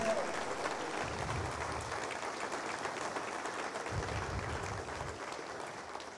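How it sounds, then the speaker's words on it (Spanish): A church congregation at a Sunday service claps in a dense, sustained round of applause, a steady roar of many hands filling the room from start to finish. "Yo creo que le podemos dar un fuerte aplauso a nuestro Dios"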